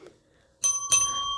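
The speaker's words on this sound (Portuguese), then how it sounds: "ativar o sininho das notificações" A notification bell sound effect rings out with a bright chime, struck twice in quick succession, the second strike coming about a third of a second after the first and both left to ring on clearly.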